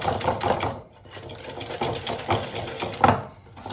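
Almond cream being whisked in a bowl gives a steady run of soft, rhythmic swishing and tapping strokes, close and moderately loud, with a brief lull in the middle.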